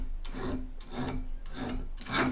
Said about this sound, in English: I get this file and very gently